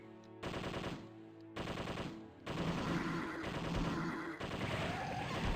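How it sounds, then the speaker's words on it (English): Rapid machine gun fire from the 1999 Dreamcast zombie shooter Zombie Revenge, loud sustained bursts with brief gaps between them, layered over game music and effects. "Machine gun."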